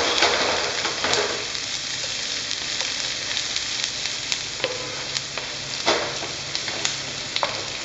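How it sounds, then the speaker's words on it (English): Chopped onion sizzling steadily in a hot pan of garlic for a chicken curry, with a continuous frying hiss and occasional clicks and scrapes of a spoon stirring, close and moderately loud with no talk. "I can now put in the onion. There we go, onions in. And stir around."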